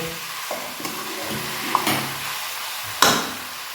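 Bihari-style mutton sautéing in a pan, with a steady sizzling hiss and a few scraping stirs and knocks of a spoon against the pan.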